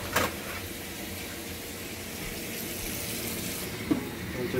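Cold tap water runs steadily onto boiled shrimp in a kitchen sink, a constant close hiss and splash with a couple of brief knocks.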